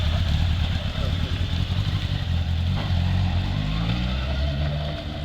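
A motorcycle engine idles, then revs and pulls away, its rumble rising in pitch and fading slightly toward the end.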